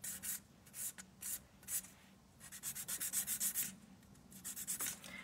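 A nail file rubbing across a gel nail to bevel it, soft rhythmic scraping strokes in short bursts, faint and close, with no talk.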